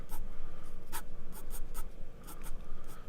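A pencil scratches rapidly on paper in quick, fluid strokes while sketching grass textures, with short bursts of scribbling close up and no talking.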